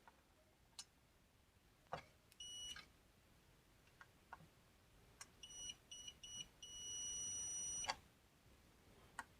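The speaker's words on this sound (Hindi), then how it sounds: "कॉइल की वजह से यहाँ पर ये आपको बीप सुनाई दे सकती है" A multimeter gives continuity beeps while probing a capacitor on an induction cooker circuit board. Several short beeps sound among faint clicks and taps, ending in a longer steady tone, all quiet and close.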